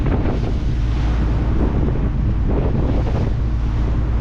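Strong wind roars constantly across the microphone on an open sea-fishing boat off Rayong, Thailand, a loud, unbroken low rumble with a faint wash of water beneath.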